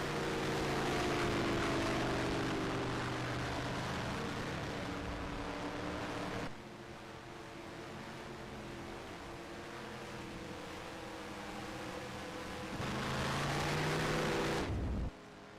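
Racing truck engines at Las Vegas Motor Speedway drone steadily while the leaders save fuel, a humming, harmonic tone shifting pitch and level a couple of times, heard from a distance with no talking.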